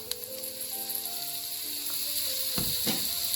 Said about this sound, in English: To this I'm going to add in the tomatoes